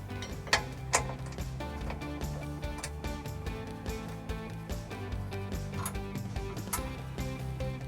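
A wrench tightening factory bolts on a 2013 Dodge Durango trailer hitch: steady, rapid ratcheting clicks, quiet and close, continuing without talk.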